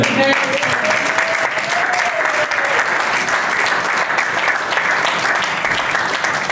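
A church congregation claps loudly and steadily, with dense sustained applause filling the room throughout, a brief sustained tone audible early on beneath it.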